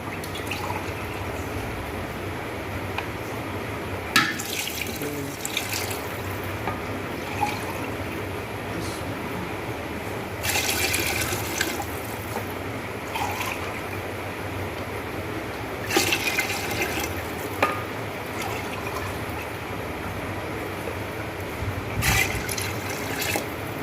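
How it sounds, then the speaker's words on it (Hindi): Water is poured from a mug into a pot of rice for potato pulao, a steady close splashing and trickling stream that runs continuously with a few brief louder gushes. "5 मग्गे मैं इसमें पानी शामिल करूँगी"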